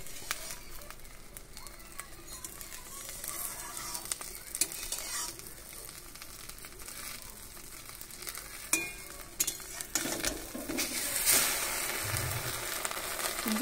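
Beaten eggs frying in hot oil in a kadai, a steady sizzle lasting throughout with spatula scrapes and clatters growing louder toward the end, no talk.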